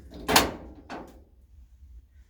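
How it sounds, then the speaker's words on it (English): The tray door of an antique wood cook stove swings shut with two quick knocks, a sharp thump followed by a softer second one, close by in an otherwise quiet room. "I'm going to now shut that door."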